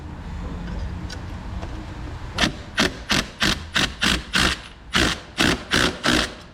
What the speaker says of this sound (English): Let's screw down the stud and see if it holds.